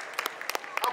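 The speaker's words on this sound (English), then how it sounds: "Give him a round of applause" Brief burst of audience applause as a guest is welcomed onstage at a live history talk, scattered claps with a few louder individual hits, fairly quiet and short.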